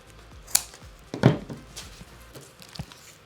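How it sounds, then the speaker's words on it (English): Scissors snip through a strap on a holster in a few sharp, close cuts spread across a quiet moment, each a brief crisp clip with soft handling rustle between. "Grab a pair of scissors, cut right down here"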